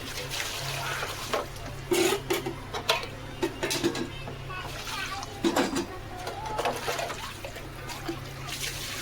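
Hand-washing a large load of dishes in a home kitchen with liquid dish soap: running water trickles steadily while pots and utensils clatter and clink in irregular bursts throughout.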